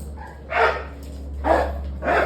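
A dog gives three short, low-pitched barks at an even pace, close by and fairly loud over a steady low hum, with no talking.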